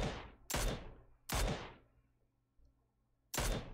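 Video-game gunfire aimed at a vehicle's tires cracks out in sharp, loud single shots, three close bursts spaced unevenly with short decaying tails and quiet gaps between them.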